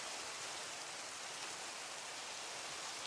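Rain falls in a Minecraft world as a steady, even hiss of dense drops, soft and continuous throughout with no voices.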